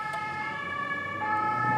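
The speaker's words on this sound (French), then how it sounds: "toutes sirènes hurlantes" Police van sirens wail continuously at night as the van speeds off, a steady moderate siren tone carrying over road noise.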